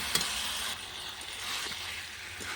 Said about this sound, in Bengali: এবার ভেজে রাখা কপিগুলো দিয়ে দেবো ভালো করে মশলার সাথে মিশিয়ে নেব